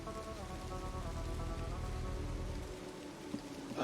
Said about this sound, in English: Perfect setting, it's raining.